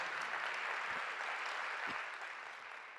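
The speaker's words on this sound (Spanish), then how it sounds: "Da un aplauso al Señor por eso" Church congregation applauding the Lord during a Spanish-language sermon about the resurrection, a steady wash of clapping from a crowd that holds evenly for about three seconds and eases slightly toward the end.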